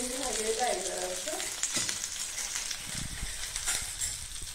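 Chopped onion frying in hot oil for an upma made from leftover idlis, a soft, even sizzle with a few stirring knocks, low-pitched background hum early on.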